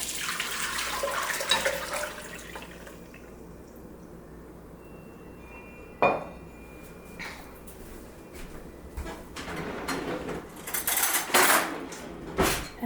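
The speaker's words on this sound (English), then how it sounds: "We're now going to strain the warm water into this bigger bowl." Warm fresh mint water strained from one bowl into a bigger bowl, with clinks of a pitcher and dishes, a sharp knock near the middle and louder splashing toward the end.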